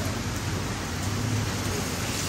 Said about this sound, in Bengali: বৃষ্টি স্টার্ট হয়েছে দেখো